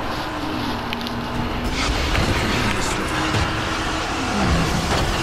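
A car driven in the game Dying Light, a steady engine drone and road rumble running continuously throughout, with a slight rise near the end.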